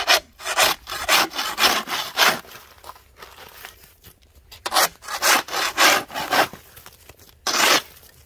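Rhythmic strokes of an ice scraper chipping and scraping thick compacted ice and snow off a driveway, a series of close, loud rasping pushes with short pauses between them.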